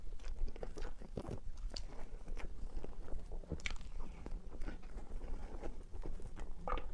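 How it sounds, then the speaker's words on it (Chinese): Someone eating a matcha and red bean mille crepe cake: soft bites and moist chewing up close, steady and quiet, with no talking. "这一口抹茶红豆千层太好吃了"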